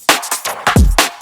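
Drum bus parallel-compressed through an XLA3 compressor, moderately squashed, a short burst of dense, pumping hits with one deep kick thump, loud and flattened with no talking.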